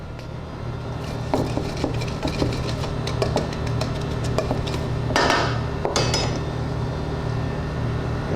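Brown sugar and cinnamon are stirred together in a bowl for a Georgian peach cobbler, with a spoon scraping and clinking against the bowl in an irregular rhythm and a few sharper knocks partway through.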